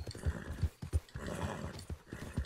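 Horse in the Red Dead Redemption II video game, hooves clip-clopping in a quick rhythm with a brief whinny, close and moderately loud.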